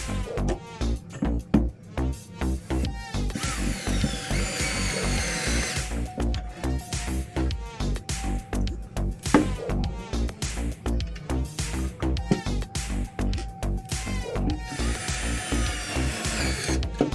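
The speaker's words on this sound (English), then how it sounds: "I'm going to use screws from the inside that I will insert into the pocket holes that you can see here" A power drill drives screws into pocket holes inside a bathroom sink cabinet with a 3/4 inch melamine top, whirring in repeated close bursts with short pauses between runs.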